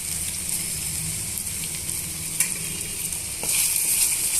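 Potato pieces sizzle in hot tempering oil, a close, steady crackle with light stirring, growing slightly louder toward the end, no one talking.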